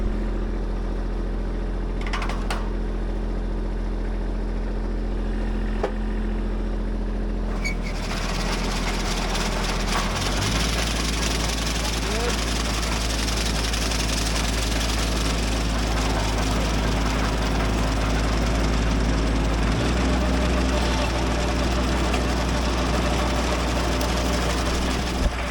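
A hay-cutting machine spins up for its first run of the season, with a deep, steady mechanical drone that builds after a few seconds and then holds loud and continuous.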